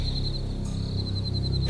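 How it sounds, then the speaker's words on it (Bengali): Crickets chirp at night in a single steady high-pitched trill that runs unbroken beneath a low background hum, faint and continuous, with no voices. "একটানা ঝিঝি ডেকে চলেছে।"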